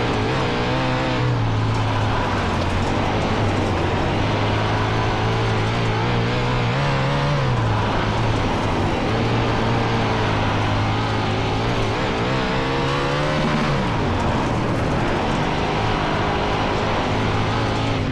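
360 sprint race cars roaring around the Limaland dirt track, a steady, loud engine drone that rises and falls as the pack circles, with pitch swells as cars accelerate and pass close by.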